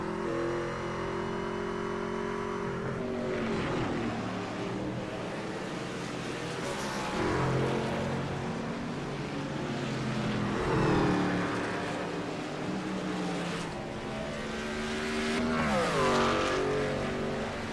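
Racing trucks lapping Watkins Glen in iRacing: several engines drone and rev at mid pitch, rising and falling as they shift and pass, with periodic swells of louder acceleration.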